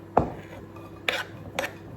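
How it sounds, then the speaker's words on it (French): Freshly cut shallots knocked into a frying pan, a sharp clatter followed by two lighter scraping clinks of utensil against the pan, close by and with no talking. "Une fois que je les ai coupés, je vais juste les mettre dans ma poêle."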